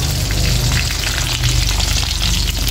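Eggplant fries lightly in hot oil with a loud, continuous crackling sizzle, close by and unbroken, with no voices.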